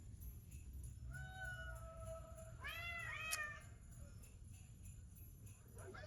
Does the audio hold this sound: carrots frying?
no